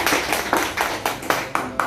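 An audience at a DXN company meeting claps in sharp, fairly regular bursts, about seven strong beats in under two seconds.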